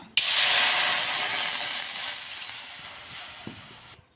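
Water hits a hot wok before Maggi noodles go in, setting off a sudden loud, close hiss of steam that slowly fades over a few seconds.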